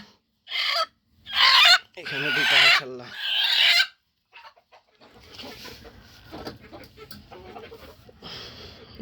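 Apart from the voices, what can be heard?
chickens clucking on a poultry farm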